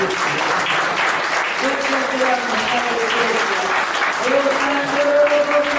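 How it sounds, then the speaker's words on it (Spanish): A church congregation claps loudly in dense, sustained applause for the full stretch, with a few voices calling out over the clapping. "Den un fuerte aplauso a Cristo Jesús."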